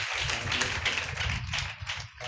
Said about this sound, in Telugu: ఈ సమయంలో ఉదయ్ గారిని ప్రేమతో ఆహ్వానిస్తుండగా చప్పట్లు కొడదాం.